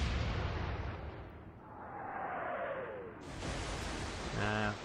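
Naval gun fired in the naval warfare game Atlantic Fleet, heavy booming roar with a falling whistle of the shell, then a second blast, loud and alone before a brief voice.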